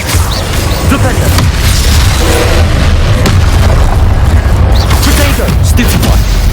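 A Flipendo spell strikes in Hogwarts Legacy amid a continuous loud, dense barrage of booming spell impacts and rumbling combat effects that hold steady throughout.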